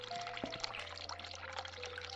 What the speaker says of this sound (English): Run hot water tap.